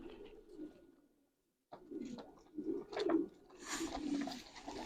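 Soft, low pigeon coos repeat close by, with a brief pause early on, then overlapping murmuring calls.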